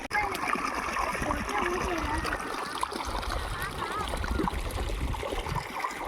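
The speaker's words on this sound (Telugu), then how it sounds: "ఇక్కడైతే చెట్లన్నిటికీ నీళ్ళు అయితే పోతా ఉన్నాయి బోర్ నుంచి." Borewell water pouring and splashing steadily onto chilli plants in a village field, a continuous close trickling wash with a voice talking faintly over it.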